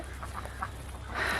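Backyard chickens give a few soft, scattered clucks, close by and fairly quiet, with a slightly louder burst of chatter near the end.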